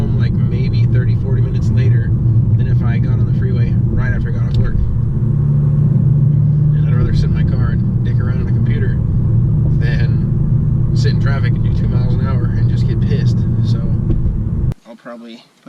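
A 2017 Honda Civic EX-T with an RV6 catless downpipe, muffler delete and cold air intake drones with a steady, loud low rumble while driving, with a person talking over it throughout before it cuts off near the end.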